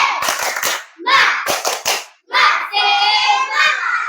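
Schoolchildren in an Indonesian classroom perform the rhythmic tepuk semangat spirit clap, bursts of quick patterned hand claps mixed with children chanting, separated by short pauses.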